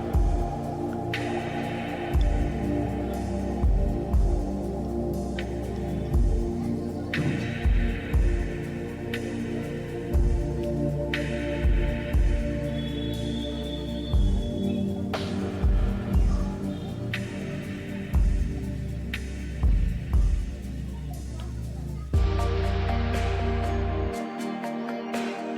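Sewing machine stitching the edge of a ladies' kurti coat collar, a steady motor hum with rhythmic throbbing stitch pulses, brief pauses between runs and a louder shift near the end, with no talking.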